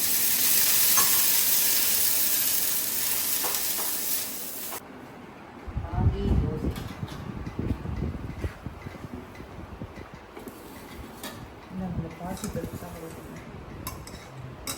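Dosa batter with onion, green chili and carrot frying on a hot pan, a steady sizzle and hiss with stirring and scraping noises, fairly close and continuous.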